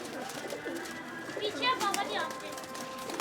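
Pari Packer breed pigeons cooing on a rooftop in Pindi, a soft continuous murmur of coos and rustling with a few brighter calls, while someone talks over them throughout.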